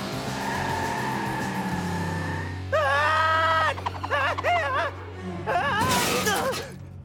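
Cartoon car sound effects: a low engine drone, then a rising sci-fi turbo thruster whine with warbling tones, ending in a burst of noisy skidding, loud and close with no talk.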